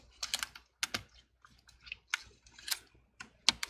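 A battery is pressed into an Acer Aspire 5 laptop, giving a run of sharp, close plastic clicks and taps in uneven bursts against near silence.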